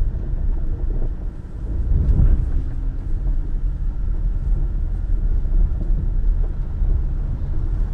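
A Skoda Octavia Scout drives along an off-road track, its engine a low steady rumble with wind buffeting, swelling briefly near the start and then holding an even drone without talk.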